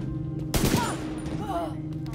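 A short burst of rapid gunfire in the video game The Division 2 cracks out near the middle, over a steady game soundscape with faint voice-like tones.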